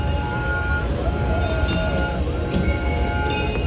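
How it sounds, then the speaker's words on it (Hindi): An amusement ride train at a beach fun area near Karachi rumbles steadily and close by, with a continuous clattering roll and faint voices of a crowd mixed in. "निम्रा तुम यहाँ ट्रेन में बैठ जाओ"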